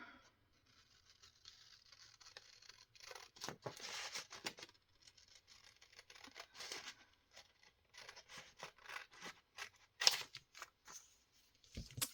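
Paper is snipped and handled at a craft table, with quiet, scattered bursts of crisp cutting and rustling separated by near-silent pauses, close and faint.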